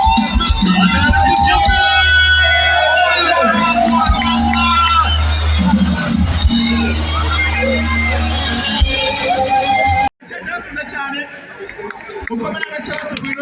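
A concert crowd cheers and roars for a band as they take the stage, steady loud crowd noise under thumping stage music, then a sudden cut to a quieter stretch of chatter.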